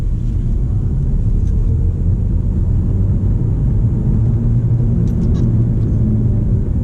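A Volkswagen Golf GTE accelerates at full power, heard from inside as a loud, steady low rumble of drive and road noise that holds for several seconds without any talking.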